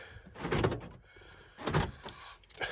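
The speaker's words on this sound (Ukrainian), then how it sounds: "Закрили дверку, перевіряємо." An Opel Meriva's car door is shut, giving two distinct thuds about a second apart, close and fairly quiet, with no talk over them.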